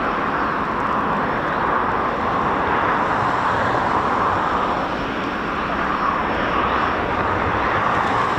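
RAF training squadron aircraft fly past during a flypast rehearsal, a continuous broad engine roar at moderate distance that swells and eases gently without pause.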